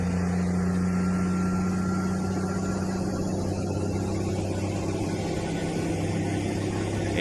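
A big Australian truck with snorkels and dual exhaust idles close by, a steady low rumbling purr holding even throughout with no revving.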